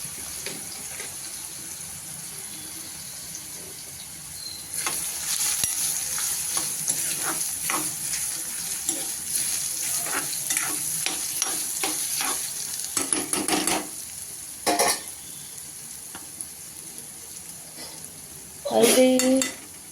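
Ridge gourd frying in a pan with dried fenugreek and asafoetida, a steady sizzle broken by repeated scraping stirs and clinks of a utensil against the pan, with a louder clatter near the end; no talking.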